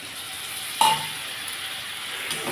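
Fish curry with potato and pointed gourd fries in a pan after whisked sour yogurt water is added: a steady soft sizzle with one brief utensil clink near the start, with no speech.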